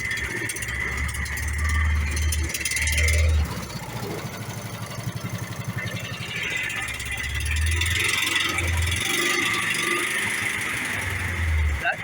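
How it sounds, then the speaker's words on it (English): A trimaran's engine with a custom hot rod exhaust idles after start-up, a low, steady, fairly quiet rumble with throbbing pulses running throughout, while people talk over it. "we started the engine, and believe it or not, it's pretty dang quiet"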